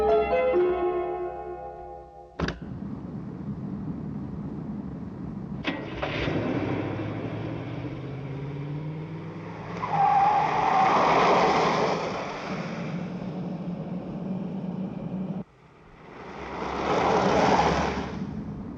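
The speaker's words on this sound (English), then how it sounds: "there's a car coming towards us" A car approaches and skids in a puppet action series, with a rising engine drone, sharp impacts and bursts of loud rushing, screeching noise that swell and cut off over a long dramatic stretch.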